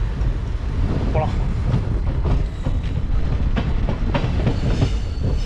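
Rameswaram–Trichy Express train running steadily on the line, a continuous close rumble of wheels and carriage noise with rhythmic clicks, and a voice talking over it.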